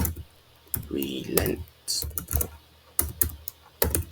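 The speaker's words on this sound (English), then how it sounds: "I'm gonna type in the name of it." Computer keyboard typing as a file name is entered, bursts of quick key clicks close up, interleaved with someone speaking over them.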